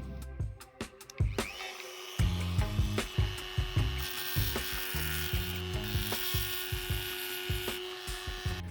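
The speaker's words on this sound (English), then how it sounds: "So let me put this disc on the Dremel and see if it works." A Dremel rotary tool with a cutting disc grinds against a piece of stone, a close, steady whine broken by short bursts as the disc bites and skips across the rock surface.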